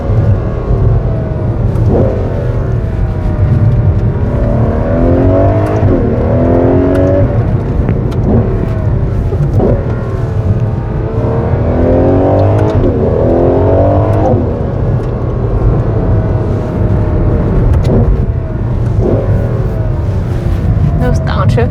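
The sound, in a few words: Ferrari 12Cilindri V12 engine revving and downshifting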